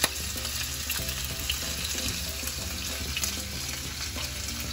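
Plantain halves fry in hot oil with a steady, close, crackling sizzle that holds evenly throughout without any talking.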